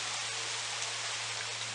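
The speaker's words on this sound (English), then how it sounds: "It's a rainy, dreary day here in North Georgia." Steady rain falls outside on a dreary, stormy day in North Georgia, a continuous dense hiss with no voices over it.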